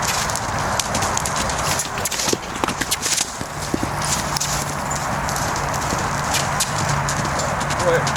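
A BLM Mustang mare canters, her hoofbeats thudding in a steady, rapid rhythm on the ground, close and continuous under a rider's occasional talking.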